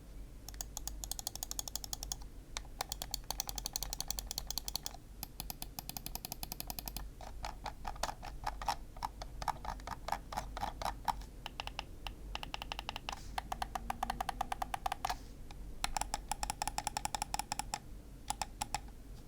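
Ninox Venator gaming mouse with Omron switches, small/medium 79 g build, giving rapid crisp button clicks in dense bursts with short pauses between runs, close and fairly quiet.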